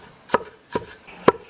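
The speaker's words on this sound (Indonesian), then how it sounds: "masukkan rumputnya ke dalam lesung. Nah, seperti itu, kemudian dihancurkan." Grass is pounded in a mortar, three sharp dull thuds spaced about half a second apart, close and distinct against a quiet background with no speech.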